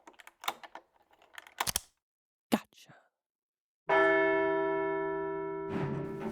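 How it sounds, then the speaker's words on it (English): Town guard bells ringing as a fantasy sound effect: one loud bell strike rings out with a long, slowly fading tone, preceded by soft clicks and whispery noises. "Town guard bells ringing."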